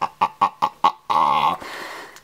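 Cartoonish duck calls from the mobile game Shark Dash ring out as five quick, evenly spaced squawks followed by a longer, drawn-out cry, loud and alone without talk.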